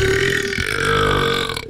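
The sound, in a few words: person burping loudly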